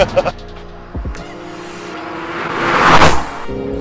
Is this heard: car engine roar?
yes